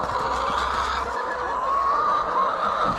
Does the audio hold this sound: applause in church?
no